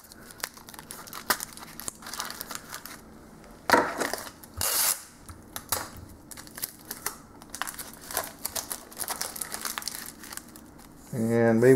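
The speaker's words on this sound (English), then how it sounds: "So what I'm going to do is just tape this to this," Tape is pulled, torn and pressed onto a piece of PVC up close, with irregular crinkling, ripping bursts and handling noises, ending in a louder stretch of tape being unrolled.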